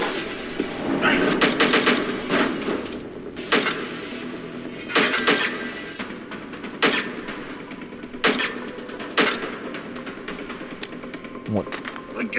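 Bursts of gunfire from a Thai drama series, sharp repeated volleys spaced every few seconds over a steady bed of talk and background noise.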